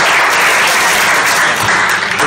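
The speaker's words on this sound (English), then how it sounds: "We should applaud them for their professionalism." Steady, dense applause from a town hall audience, loud and continuous throughout.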